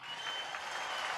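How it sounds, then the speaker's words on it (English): Brief, faint applause from a live audience, a soft even wash of clapping that lasts about a second. "I need to hear some fucking applause."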